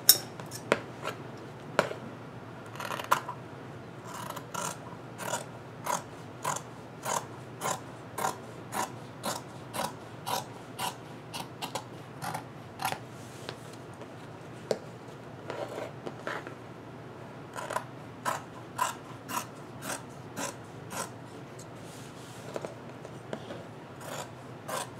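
Scissors cut fabric lining away from a placemat tote, giving a series of short, crisp snips and rasping cuts at an irregular rhythm, close and fairly quiet, with no talking.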